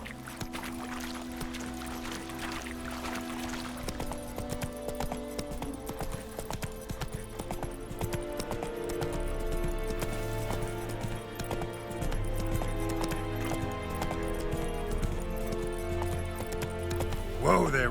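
A horse's hooves in The Witcher 3 video game, a rapid rhythmic clip-clop under game music and a voice, steady and moderately loud throughout.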